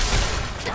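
Bursts of gunfire in the video game Fallout 4, a dense, loud, booming rattle of shots filling the short moment.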